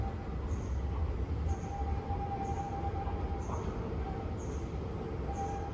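A Keihan train idles at Biwako-Hamaotsu Station with a steady low rumble, while a faint high chirp repeats about once per second.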